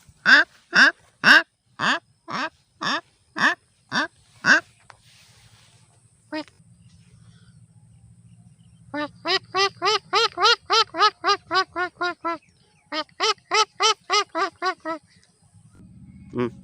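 A man imitates a duck with his voice, loud close bursts of rhythmic nasal quacks in quick runs, pausing briefly between series, with a low engine-like hum in the gaps.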